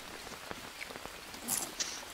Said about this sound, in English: At least it's still raining,